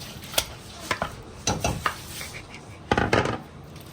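Macaroni stirred into boiling cheese in a pot, giving scattered scraping and clinking spoon strokes against the metal with soft bubbling between them, close and moderately loud.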